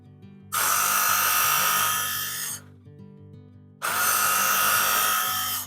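A knife blade is drawn across a coarse grit sharpener in two long, loud, rasping strokes separated by a short pause, over a low steady hum.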